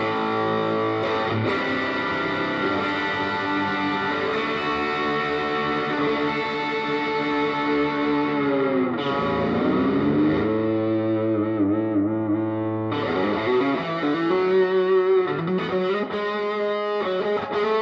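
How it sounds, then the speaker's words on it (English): An electric guitar plays through a Marshall DSL1 valve amp at maximum gain with heavy reverb, giving sustained distorted chords and ringing notes that swell and bend, loud and alone with no talk. "let's max the gain, back it off, and let's chuck a load of reverb on there"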